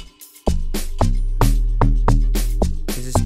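An Ableton Live short log drum preset layered with a sub bass plays a punchy rhythmic pattern of deep booming hits with crisp percussive tops, loud and close, no talking.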